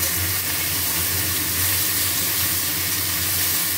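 Taro, jackfruit seeds, pumpkin, eggplant and potato fry loudly in a pan after a fish head, making a dense, continuous sizzle without pause.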